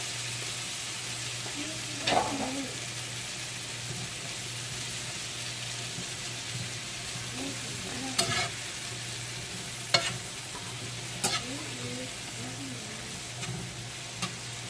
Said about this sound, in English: Just stir them around and let the margarine get all over them.